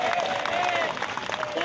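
An audience at an Islamic lecture claps together in a dense, steady burst of applause, with some faint voices mixed in.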